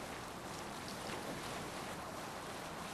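Ocean waves and rushing water in Assassin's Creed Valhalla, a dense continuous wash of surf and wind noise, steady and even throughout with no voices.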